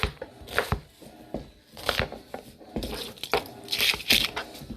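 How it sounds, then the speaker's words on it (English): A knife chopping a large onion half into pieces on a board, several close, uneven crunching cuts spaced through the stretch, with no talking. "We're going to cut that half into 6 pieces."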